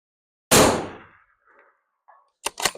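A single loud, sharp rifle shot from a Savage 110 in .308 fired outdoors, followed by a fading echo and then a couple of quieter clicks and clatters of handling.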